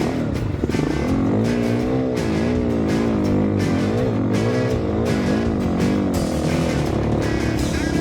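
A motorcycle engine labours up a high mountain trail on Cinnamon and Engineer Passes, loud and close, its revs rising and dipping continuously as the clutch is feathered to keep the engine spinning while the bike slows.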